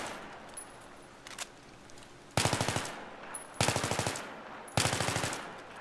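Automatic gunfire in Battlefield 3, three loud sustained bursts of rapid shots, each short burst cut off cleanly, with quieter game sounds between.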